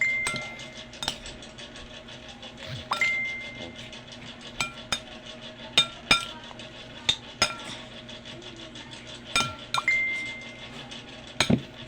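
Bitter gourd kinilaw being mixed in a bowl with a utensil, giving sharp, irregular clinks and taps of metal on the dish, close and fairly loud over a quiet room, with no talking.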